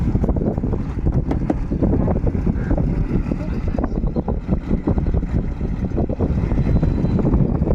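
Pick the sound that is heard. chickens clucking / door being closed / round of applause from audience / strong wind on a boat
strong wind on a boat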